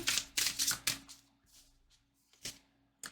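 Tarot cards are shuffled in quick riffling bursts, several sharp papery flutters close by, then a pause and a couple more snaps of cards.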